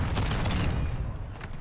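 The MX Guardian shotgun fires repeatedly in a video game, giving a dense, continuous run of loud, close blasts.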